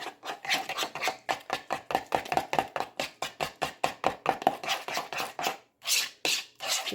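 Broccoli pasta salad stirred in a bowl, with a steady series of close, rhythmic scraping and sloshing strokes, about three per second, with a brief pause near the end.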